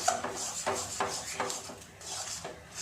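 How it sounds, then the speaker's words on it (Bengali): Mashed mankochu taro is stirred continuously in a pan until dry, a spoon or spatula scraping and knocking against the metal in a slow repeating rhythm, close and fairly soft, with no talk. "এইভাবে কচুটা সারাক্ষণ নেড়ে নেড়ে শুকনো করে নিতে হবে।"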